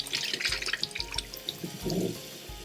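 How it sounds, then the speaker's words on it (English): Cool tap water running over freshly boiled eggs in a kitchen sink, a close splashing stream with drips and clinks of eggs. "I'm just gonna run some cool water to kind of stop the cooking process."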